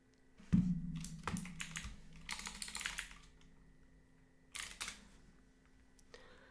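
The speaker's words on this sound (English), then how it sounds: "I'm going to type in all my info that you can't see because I'm going to blur it out" Login details are typed on a computer keyboard in short bursts of close, crisp key clicks, separated by quiet pauses.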